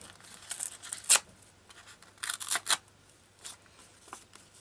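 Scissors trim around small fabric clusters in a few short, quiet snips and crinkles, with a sharper cut near the start and a cluster of snips a little later, close by, with no talking.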